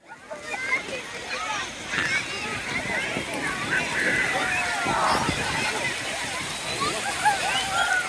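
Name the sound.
water splashing on the beach at Blackpool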